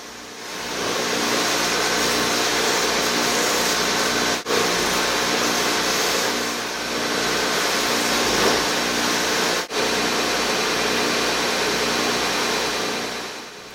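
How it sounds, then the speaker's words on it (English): Sander truing the wooden fellies of wagon wheels in a coach shop: a loud, steady abrasive roar with a continuous motor whine, briefly dipping twice as the work shifts, with no voices. "we put them past the sander to make sure that everything runs true and that the face of the fellies is square for the tire"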